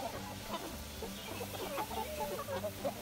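A meat chicken clucks in short, quiet bursts at close range, soft and irregular against a faint background.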